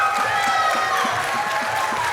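An audience applauds for an R&B duo at a live music-industry panel event, with sustained, dense clapping and crowd noise filling the whole stretch at a steady level.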